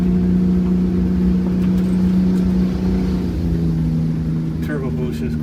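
A bus with a Detroit diesel engine climbs a hill under acceleration, a loud steady low drone with a constant hum heard from inside, and the pitch dips slightly near the end.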